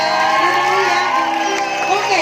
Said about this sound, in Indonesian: Tepuk tangan dulu buat Tete.